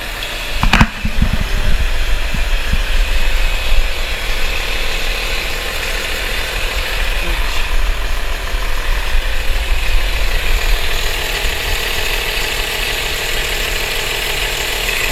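A BMW M3 E36 engine idles steadily nearby, a constant low hum and rumble with a brief clunk near the start, no one speaking.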